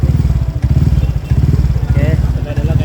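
A modified motorcycle engine with a tuned ECU idles loudly and close by in a workshop, a rough, lumpy rapid thumping with a slightly uneven beat, while someone talks over it.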